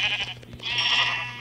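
Sheep bleating in a Minecraft-style survival video game, a few short nasal bleats with a wavering tone, close and clear, no talking over them.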